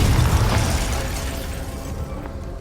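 A Confringo fire spell bursts in Hogwarts Legacy, a loud booming explosion with a crackling, rumbling tail that fades slowly across nearly three seconds.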